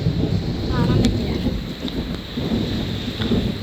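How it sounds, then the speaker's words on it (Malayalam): Strong wind gusts during a rainy thunderstorm roar steadily and loudly against the microphone, with a short bit of voice early on. "നല്ല കാറ്റുണ്ട് കേട്ടോ."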